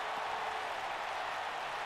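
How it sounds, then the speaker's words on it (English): Steady wash of crowd applause and cheering in a wrestling arena during a title match in the WWE 2K19 video game, continuous and fairly loud with no talk. "This crowd has literally been on the edge of their seats ever since this title match kicked off."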